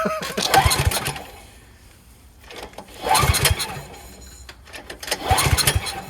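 The electric starter of a Troy-Bilt Storm 3090 30-inch dual-stage snowblower cranks its engine in three loud bursts separated by pauses, and the engine never catches.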